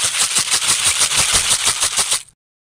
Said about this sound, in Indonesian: Itu adalah suara Marakas.